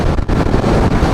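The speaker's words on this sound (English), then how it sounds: "Alright, the wind's blowing, it's gusting pretty good." Strong gusting wind, 20 mph steady with 40 to 50 mph gusts, roaring loudly and continuously across the microphone while riding a Yamaha XSR 900 three-cylinder motorcycle at highway speed.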